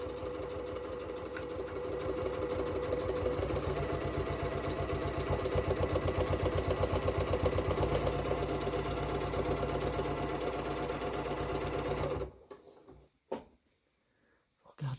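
A domestic sewing machine stitches fabric along the full length of a sewing project, a steady rapid mechanical whir with fast needle pulses, running continuously and close up before stopping abruptly, leaving near silence.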